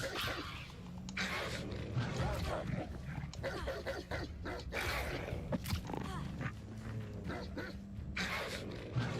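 Puppies in the video game Hogwarts Legacy bark and yip in scattered bursts over a steady game background, mixed with other animal noises.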